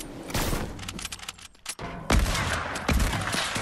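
Sniper fire in a video game, with dense, loud bursts of gunshots and booming impacts crowding together, a short dip in the middle, then more sharp reports.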